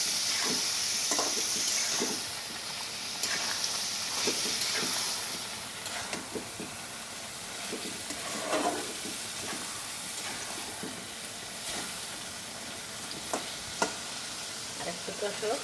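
Chicken curry sizzles and fries in a pan while being stirred and sautéed with sauce, a steady hiss with scraping spoon strokes throughout, loudest at the start.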